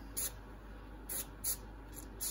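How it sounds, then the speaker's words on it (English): Short hissing spritzes of Super Clean degreaser hit a Snap-on ratchet, four quick bursts spaced unevenly, close and fairly quiet against a faint background hum. "I'm gonna put some super clean degreaser on there"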